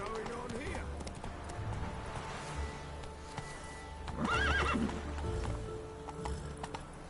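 Roach, a horse in a video game, gives a loud, shrill whinny partway through, and hoofbeats clop beneath it under a low rumble of game ambience.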